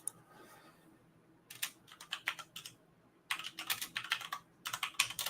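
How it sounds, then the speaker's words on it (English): Quick bursts of typing on a computer keyboard entering a search, close and crisp clicks in three clusters separated by short quiet gaps, no talking. "Typed in LeBeau."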